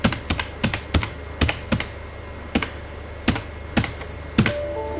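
Typing ten characters on a computer keyboard into an Excel spreadsheet, about a dozen crisp, close key taps in an irregular rhythm, alone without talk.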